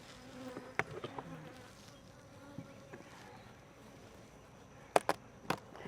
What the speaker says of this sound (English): it's really hot and the bees are really agitable